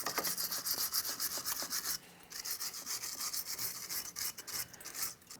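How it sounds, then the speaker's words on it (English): Wire brush scrubbing the strut mounting area of a 2007-2014 Ford Edge during front wheel bearing and hub work, a rapid bristly rasping in quick back-and-forth strokes, close and continuous with a short pause. "We're using a wire brush."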